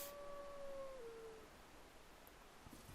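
The giant wolf Sif from Dark Souls lets out a single long, clear howl that bends downward and fades after about a second, over a low, faint game backdrop.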